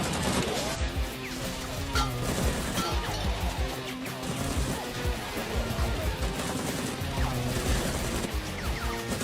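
Gunfire and crashing impacts in an action thriller film scene, dense and loud throughout, layered with a heavy score and sound effects, with bursts of shots blending into a continuous barrage.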